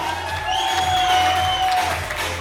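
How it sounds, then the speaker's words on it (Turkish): Applause and cheering from wedding guests at a Turkmen toy, dense clapping with whoops and a sustained whistle-like tone running through, loud and close for a couple of seconds. "Alkışlar."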